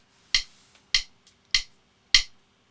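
Sharp metronome clicks from a Studio One click track tick four times at a steady pace, the first beat accented and louder, the rest quieter, close and alone.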